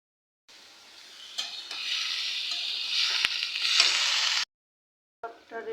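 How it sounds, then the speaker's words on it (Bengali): Amaranth stalks with golsha tengra fish frying in a pan, a steady close hiss and sizzle with occasional stirring clinks, starting after a short silence, breaking off, then briefly resuming. "আমি গোলসা ট্যাংরা দিয়ে আমার বাগানের ডাঁটা রান্না করব, এটা বসিয়ে দিয়েছি"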